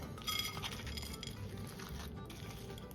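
Dishes and cutlery clink and knock together in short, light bursts while animal style mac and cheese is plated, fairly close and quiet over a steady low background hum.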